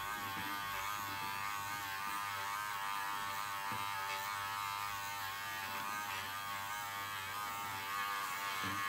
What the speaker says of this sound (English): If you've got a Dremel tool or a rotary tool that goes really fast